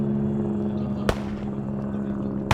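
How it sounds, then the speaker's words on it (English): Two sharp gunshots in a video game, a single loud crack early and another near the end, over a steady droning engine hum like a nearby helicopter during a rough night operation. "Oh no, they're shooting over here."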